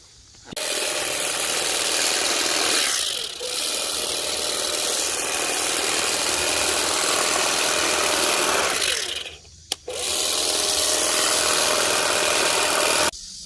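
Makita DUM604 cordless grass shears trimming a lawn edge, a loud steady buzzing whir that runs continuously for several seconds, cuts out briefly, then restarts and keeps going, close up with no talk.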